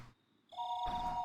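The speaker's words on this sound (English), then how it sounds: "the phone rang once again." Telephone ringing in the video game Higurashi: a brief electronic ring of sustained bright tones that begins after a short pause, clear and alone without talk.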